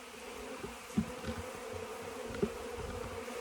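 Honeybees circling around a weak colony's hive, a low steady buzzing drone close by with a couple of louder passes near the microphone, no speech.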